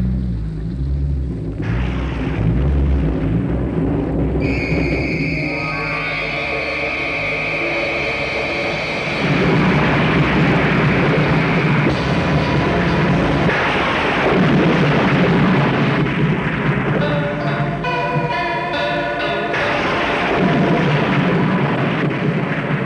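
Stormy night thunder rolls loud and close, a long rumbling roar sustained over steady rain-like noise, with sharp crackling tones layered in the middle.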